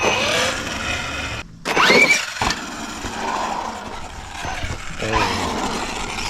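A Tekno MT410 electric RC monster truck on its maiden drive whines and buzzes outdoors, its motor pitch rising and falling as it speeds up and slows, close and fairly loud throughout.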